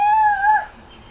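A voice imitates a cat's meow, a single rising-then-falling mew lasting about half a second, close and clear, then fading out.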